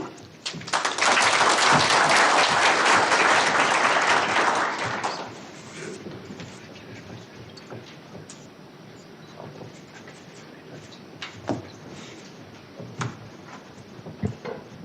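Audience applause at an NGO week gathering in Nairobi, a dense burst of clapping for about five seconds that then thins into scattered, quieter claps and room noise.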